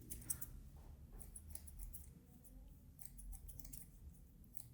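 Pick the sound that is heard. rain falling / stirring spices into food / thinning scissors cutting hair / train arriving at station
thinning scissors cutting hair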